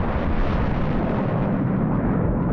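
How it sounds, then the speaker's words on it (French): A volcanic eruption explosion roars as a loud, sustained low rumble with a dense blast of noise that holds steady for a couple of seconds. "Quand un volcan entre en éruption, l'explosion envoie une onde de choc."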